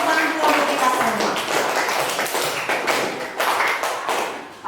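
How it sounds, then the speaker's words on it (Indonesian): A classroom of students applauds for group 4, a dense steady patter of many hands clapping close by that keeps going through the whole stretch with slight swells. "Tepuk tangan untuk kelompok 4"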